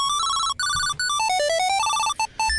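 The Skipping Stones ringtone from the Tile app plays loud and close: bright electronic tone bursts repeat quickly, hopping up and down in pitch with short gaps. No voices are heard.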